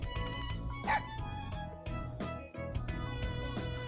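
A dog barks and yips in a video game, several sharp woofs and a whimper over steady game music, close and loud.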